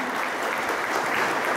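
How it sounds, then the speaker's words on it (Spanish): Steady applause from an audience at a graduation ceremony for a sales and customer service course, dense clapping filling the whole stretch without pause. "Fuerte los aplausos."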